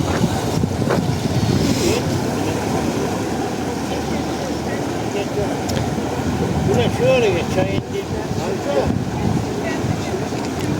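A tour boat motor drones steadily close by on the water in Eskişehir, a low continuous rumble with wind noise over it, the pitch rising slightly as it passes.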